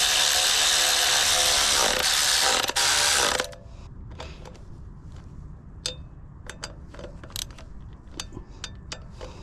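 A ratchet tightens the bolts on a Tusk oversized floating rear brake rotor on a KTM 150SX dirt bike. A loud burst of rapid clicking comes first, then scattered slower clicks and pawl ticks nearby.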